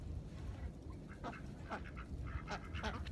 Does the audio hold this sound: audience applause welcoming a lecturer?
no